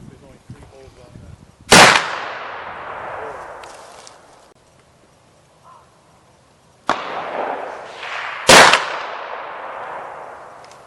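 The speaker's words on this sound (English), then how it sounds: "Okay, that's 4 shots?" Black powder rifles fire at an outdoor field shoot, with three loud, sharp reports, each trailing off in a long echoing rumble across the open ground and separated by quieter gaps, with faint voices between shots.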